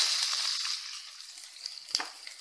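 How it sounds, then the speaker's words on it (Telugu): Onions frying in hot oil with tempering spices for bread upma, a steady close hiss of sizzling that fades slightly after the first second, with a few soft clicks of stirring near the end and no talking. "కొద్దిసేపు ఫ్రై చేసుకుందాము"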